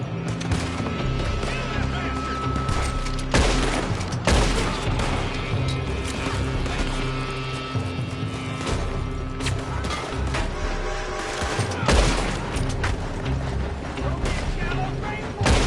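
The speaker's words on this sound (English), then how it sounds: "They're shooting from that building!" Gunfire in a Beaver Hollow shootout in a Western video game, with scattered loud shots and cracks amid busy game noise as in-game voices shout over the fight.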